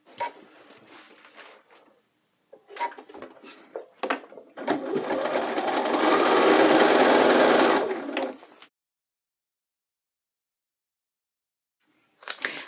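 A sewing machine stitches a reference line around the leg pieces of a pair of pants, a loud steady whir lasting a few seconds between short bursts of handling noise, then silence.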